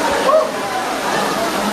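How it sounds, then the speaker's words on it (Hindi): Water rushing between rocks at a waterfall in a hidden spot near Dehradun, a steady broadband roar heard close, with voices talking over it. "देख कैसे पानी निकल रहा है इसके बीच में से"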